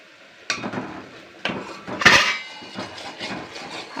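A utensil stirs sandesh mixture of chhena, coconut, sugar, cashews and a little ghee in a pan, giving several distinct clanks and scrapes about a second apart with soft rustling between.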